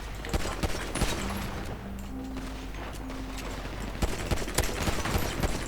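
Gunfire in GTA V on a FiveM server, sharp scattered shots cracking at irregular intervals, with a denser burst near the end over a low steady background hum.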